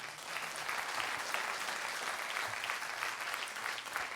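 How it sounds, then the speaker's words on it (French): A crowd at the closing ceremony of the 36th Mont-Blanc Comedy Festival applauds the festival volunteers: steady, dense clapping from many hands, heard somewhat distant and quiet, sustained throughout. "Là aussi, applaudissements"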